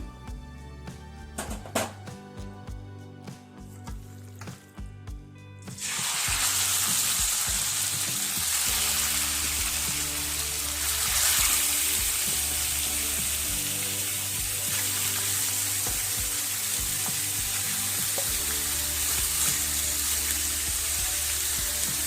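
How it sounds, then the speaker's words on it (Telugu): A few seconds of quieter kitchen sounds, then loud, continuous sizzling of chicken frying in two tablespoons of oil for chicken pickle, carrying on steadily to the end. "ఇప్పుడు రెండు టేబుల్ స్పూన్లు నూనె వేసుకొని దాంట్లో చికెన్ని వేగించుకోవాలండి"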